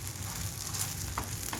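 Uttapam made with bobbarlu, sizzling in oil on a pan after being flipped, a soft continuous hiss with faint brief scrapes, quiet and close.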